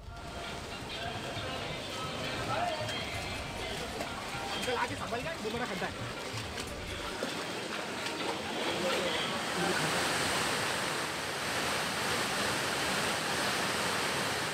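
Heavy rain pours down over flooded streets in Trimbakeshwar, Nashik, a steady dense hiss of water with rushing flow that continues unbroken and fairly loud throughout.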